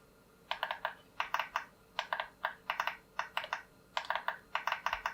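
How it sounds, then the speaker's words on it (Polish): Side buttons on a Cooler Master MS110 gaming mouse click sharply and close up, firing in quick clusters of three or four hard clicks separated by short pauses. "Przyciski boczne klikają tak."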